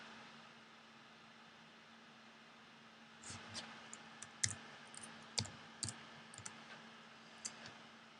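Computer mouse clicks while working in Photoshop: silence first, then roughly eight sharp, close clicks come at irregular intervals over a faint steady hum.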